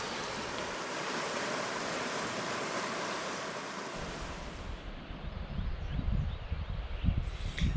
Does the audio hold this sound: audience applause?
no